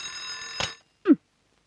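A bell alarm clock rings in a home at morning wake-up time, a steady, bright metallic ringing for under a second that cuts off, followed by a brief low scraping sound, with no talk.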